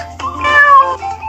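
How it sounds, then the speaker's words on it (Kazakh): A cat gives a single clear, close meow lasting about a second, rising then falling in pitch against a quiet background. "Мысық"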